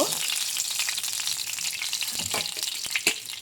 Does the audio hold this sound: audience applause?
no